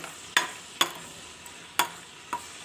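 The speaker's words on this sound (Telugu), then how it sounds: "గోల్డ్ కలర్లోకి వచ్చే వరకు వేయించుకోవాలండి వెల్లుల్లిపాయని" Garlic frying in a pan under a soft background sizzle, punctuated by four sharp metallic stirring clinks spaced irregularly.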